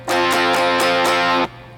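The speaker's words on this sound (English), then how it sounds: "on the M13, I used the facial fuzz, and it sounds like this" Fuzzy, distorted electric guitar through a Line 6 M13 fuzz effect, playing a chord with quick rhythmic re-strums, then cutting off abruptly, leaving a faint amp hum.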